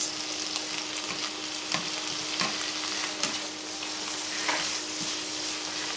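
Rice frying in a pan with a constant bright sizzle, broken by a spoon or spatula scraping and tapping at irregular intervals as it is stirred.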